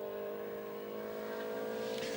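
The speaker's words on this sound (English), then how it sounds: "Now he's back in this brand new car, Subaru Impreza." A Subaru Impreza rally car engine at a 2003 rally sprint hums steadily at a fairly constant pitch, heard from a distance and fairly quiet, with no talk.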